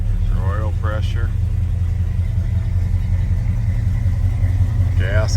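A 1976 Ford F150 pickup engine idles with a steady, loud, low rumble close by. A voice speaks briefly near the start and again at the end.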